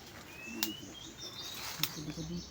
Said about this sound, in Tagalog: Ay, mga ibon.